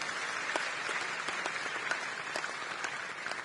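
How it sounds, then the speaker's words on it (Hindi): Loud, sustained applause from a crowd at a BJP political party working committee meeting, steady clapping throughout with a few sharper claps standing out. "जोरदार ताली बजाएंगे।"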